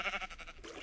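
Sheep in the video game Minecraft bleat in a short, wavering cry, close and clear, lasting under a second with no talking.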